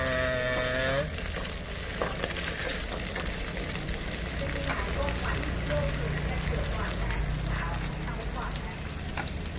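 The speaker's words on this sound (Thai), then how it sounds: "แล้วเราก็ผัดให้หมูกับกุ้งสุกนะคะ" Pork and shrimp stir-fried in a wok for pad thai, with a steady loud sizzle and the scrape of stirring running throughout, and a voice talking over it.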